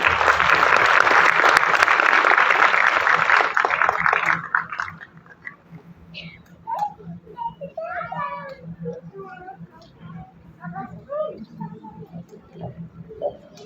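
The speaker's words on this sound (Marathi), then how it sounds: "त्यांच्यासाठी सुद्धा जोरदार टाळ्या" An audience in a city hall applauds loudly for about four seconds for the programme organiser, then the clapping stops and a cat meows repeatedly close by.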